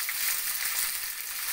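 Salted cauliflower and papaya frying in a little oil in a pan, giving a steady, bright sizzle with a faint stirring texture, close and unbroken for a moment, with no voices.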